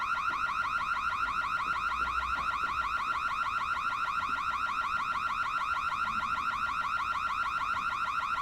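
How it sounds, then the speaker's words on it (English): An electronic alarm wails continuously, a rapid warbling tone repeating in a fast cycle, loud and steady throughout with no talking. "So when she comes in, the alarm's going off."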